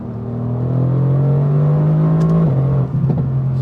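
A 585 hp Mercedes-AMG GT R accelerates hard on the autobahn from inside the cabin, its engine drone climbing steadily and loudly before a gear change drops the pitch, then pulling again.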